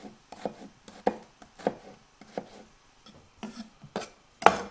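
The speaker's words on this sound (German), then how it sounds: "Jetzt schneide ich die Zwiebeln und hau die ja auch noch mit rein." Knife chopping onions on a board, sharp irregular thuds in short bursts with brief pauses between, close and clear with no talk.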